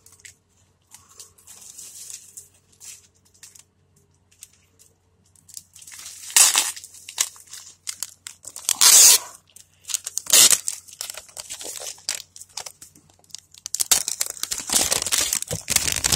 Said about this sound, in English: Take it out of its wrapping.